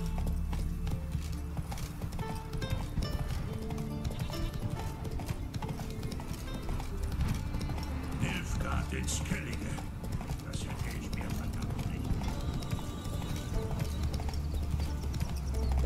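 Horse hooves clip-clop steadily as a horse is ridden through Skellige in the video game The Witcher 3: Wild Hunt, a continuous close trotting rhythm with occasional mechanical clicks and someone talking over it.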